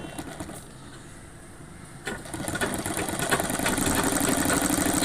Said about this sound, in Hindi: फिर सिलाई कर देते हैं इस पर।